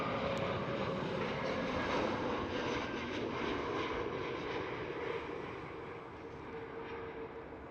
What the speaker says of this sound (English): SAS Airbus A320 Neo.